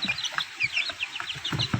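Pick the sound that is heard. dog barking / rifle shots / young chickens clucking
young chickens clucking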